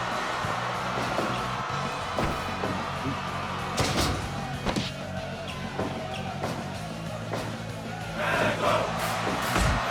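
A wrestling show crowd murmurs and roars during a match, with scattered shouts, whoops and occasional ring slams rising over steady arena noise, growing louder toward the end.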